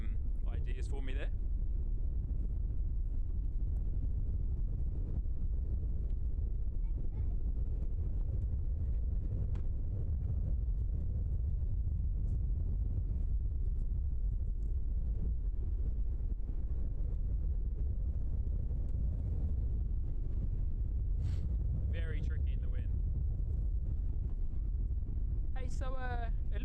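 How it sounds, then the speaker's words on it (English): Gusty wind buffets the microphone at Christchurch airport, a steady low rumble lasting throughout with brief bursts of higher noise near the start and end. "Pretty tricky in the wind."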